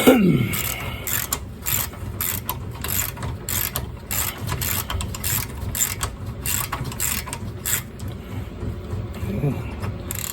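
Ratchet wrench cranking a socket on a tie rod end of a 2006 Buick, rapid repeated clicking strokes in bursts, close and fairly quiet, with someone speaking at times.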